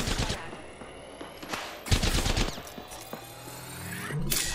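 Bursts of rapid gunfire from a video game weapon, loud and close, coming in several clusters with mechanical clicks and hum between them.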